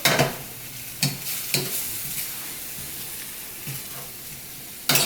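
Seasoned taco ground meat sizzling steadily in a pan, with a few sharp scrapes and clanks of a spoon stirring it, close and continuous with no voices.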